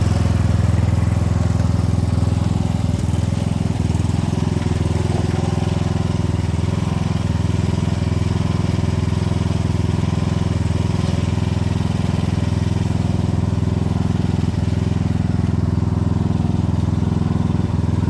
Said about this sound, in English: I don't know if you can hear how it putters just a little bit here and there.